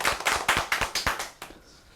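A short burst of hand clapping from a small group, several quick claps fading out after about a second and a half.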